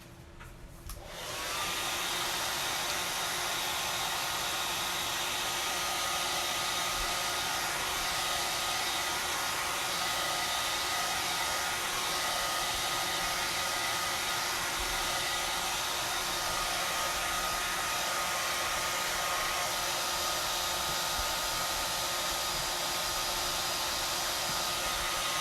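A hair dryer blowing on hair, switching on and then holding a loud, steady whooshing roar close by for the whole stretch, with no talking.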